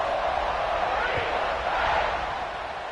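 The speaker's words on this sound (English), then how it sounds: "this crowd is buzzing after that last score" Steady crowd roar fills a video game football stadium in NCAA 26, a broad continuous buzz that swells slightly and then eases toward the end, with no clear talk over it.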